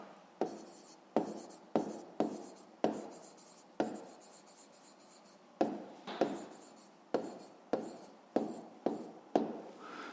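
A pen writes by hand on paper while a fifth-grade math exercise is solved. Quiet scratchy strokes come in a steady series of short bursts, each starting with a light tap, close up with no talk.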